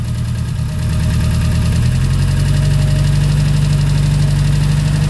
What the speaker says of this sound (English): You can hear the engine change there.